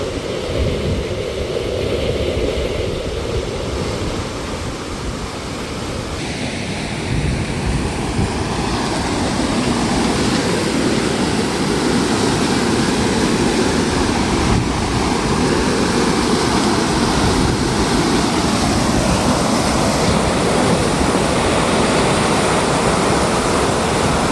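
Rushing water pours from a canal into a lake near Mysore, a steady, loud, close roar of churning flow that continues unbroken, with no voices over it.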